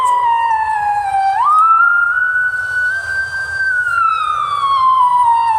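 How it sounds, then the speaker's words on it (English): An ambulance siren wails up and down, loud and close, its pitch rising and then sliding slowly back down. "There's an ambulance right there."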